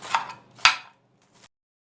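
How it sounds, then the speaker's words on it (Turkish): Lettuce being finely chopped with a knife on a board, a few sharp close cuts followed by quieter taps, then silence. "Bu şekilde kıyalım."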